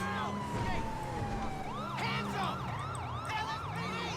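A police siren in the video game GTA V wails, sweeping up and down in rapid, repeating cycles, with a low engine hum underneath.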